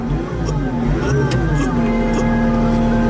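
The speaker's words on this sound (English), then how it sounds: "We're going to start the machine." Diesel engine of a 2015 Caterpillar CAT 289D rubber-track skid steer with high-flow forestry package starting and settling into a steady, loud idle hum, with a strong low drone held throughout.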